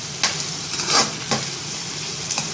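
Curry leaves with dried and green chillies frying in hot oil, a bright crackling sizzle with a few louder spitting bursts as pieces hit the pan.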